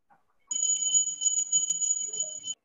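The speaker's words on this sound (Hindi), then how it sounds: "फिर से स्टार्ट हो गया घंटी, कितना बजा रहे हो?" An electronic bell rings in a classroom as a continuous shrill two-tone beeping, starting abruptly and sounding steadily for about two seconds before cutting off.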